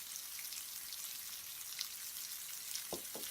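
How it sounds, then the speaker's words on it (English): Jerk chicken sears on high heat with a steady, close crackling sizzle throughout, joined near the end by a couple of brief sharper pops. "I've got to do a sear on this side, then I got to flip it, sear on that side"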